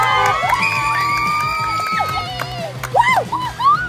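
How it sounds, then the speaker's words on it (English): Fans gathered outside cheering and whooping with high excited shouts, bright and lively over a steady background rumble, voices rising in bursts near the end. "That's so cute, they're all cheering."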